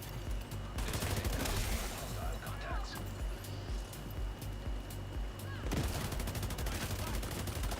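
Gunfire in The Division 2, with dense bursts of shots and rapid fusillades running almost continuously through the clip, loud and close, with busy game sound effects beneath.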